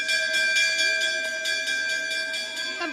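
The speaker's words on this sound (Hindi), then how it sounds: "कंप्यूटर का घंटा है" A bell rings for computer class in quick, regular metallic strikes with a sustained, bright ringing tone, set within a lively music track.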